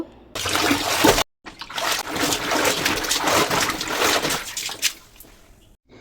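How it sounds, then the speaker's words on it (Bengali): Hand-washed clothes being rinsed in a bucket of water: continuous sloshing, splashing and trickling up close, broken by one short pause early on, with no talk. "তো এখন জলে ধুয়ে নেব।"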